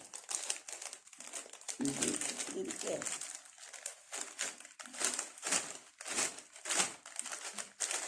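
A crinkly bag of potato chips being torn open from the side, giving bursts of sharp plastic crackling and crumpling in close, uneven handfuls, with short pauses between rustles and brief murmurs of speech.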